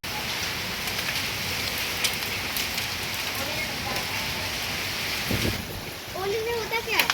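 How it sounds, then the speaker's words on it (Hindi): Heavy rain beats down steadily through a strong windstorm with hail, a dense continuous roar, with a few brief sharper sounds near the end. "हमारे यहाँ पे हो रही है बहुत तेज़ बारिश, आंधी तूफान आ रहा है, और साथ ही साथ ना ओले भी पड़ रहे हैं"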